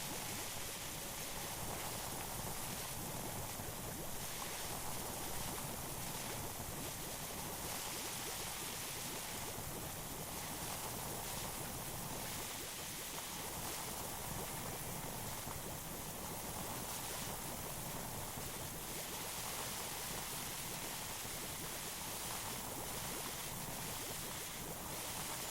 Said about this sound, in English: let's spray some more soap down